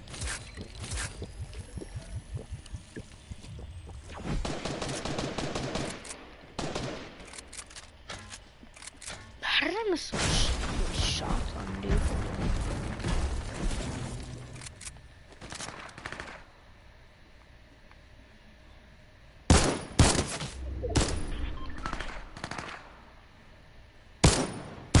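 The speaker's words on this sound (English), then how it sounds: "double burst SMG, it's literally good." Double-burst SMG gunfire in a PS4 shooter video game, rapid bursts in clusters with loud game effects and a player talking over parts of the action.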